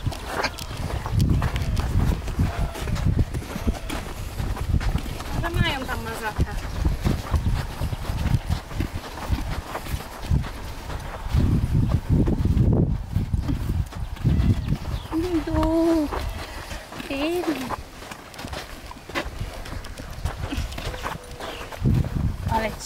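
A horse walking outdoors, its hooves clip-clopping in an irregular, steady rhythm close by, with people talking over it now and then and a brief higher animal call midway.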